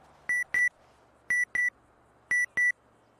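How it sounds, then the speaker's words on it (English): Three pairs of short electronic beeps, each pair evenly spaced and clean, sound out clearly over a quiet background in a GTA NoPixel roleplay game session. "I thought I heard a beep."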